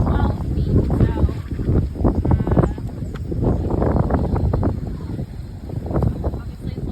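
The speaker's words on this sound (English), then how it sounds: "obviously it's a little difficult with the wind" Wind gusts across a microphone outdoors while setting out poles for a pole-pattern riding course, a steady low rumble and buffeting that runs throughout, with faint speech-like sounds in it.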